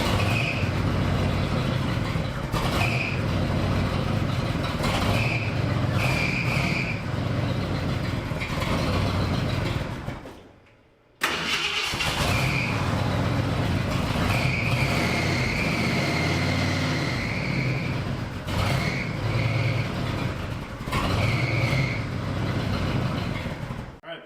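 An old, cheap turbocharged farm truck engine cranks, fires up and idles with a loud, steady rumble, briefly cutting out before restarting and settling into a rough idle with whining tones over it.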